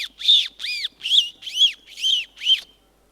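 Human voice mimicking a parrot, six short whistled squawks in a steady rhythm with rising and falling pitch, close and clear with silence after.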